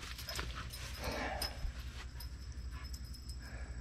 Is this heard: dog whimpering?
yes